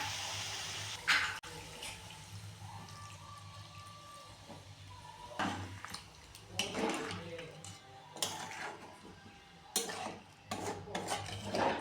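Spice-rinsing water is poured into mutton simmering in a pot, a soft splashing pour followed by scraping and clinking of a utensil against the pan, with occasional speech.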